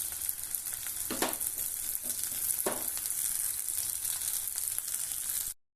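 Chopped onions and green chilli fry in hot oil in a wok, giving a steady close sizzle with a few stirring scrapes before the sound cuts off abruptly.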